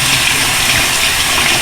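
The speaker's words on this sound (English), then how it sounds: "I'm going to run the water." Tap water runs in a steady, loud, close gush for rinsing a shaver blade, a broad hiss that stays even throughout with no talk over it.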